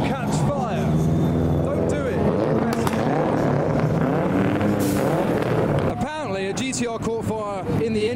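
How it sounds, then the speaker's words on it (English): A V8 engine revving at the SEMA 2023 car show, loud rising and falling roars with rapid throttle blips toward the end, over a busy crowd with people talking nearby. "Someone's revving a V8, and I don't think it's the Porsche."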